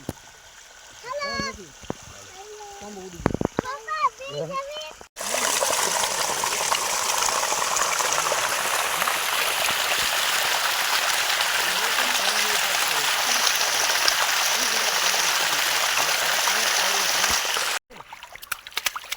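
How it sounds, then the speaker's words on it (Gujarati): Water rushes steadily through an irrigation channel on a farm, a loud continuous gushing that runs for most of the stretch, with a person talking briefly before it and again at the end. "વાડીએ પાણી પણ ચાલુ છે ધોરિયામાં"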